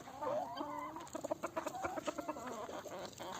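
A farmyard rooster among laying hens gives a close, moderately loud call with rising and falling tones, followed by a quick run of clucks.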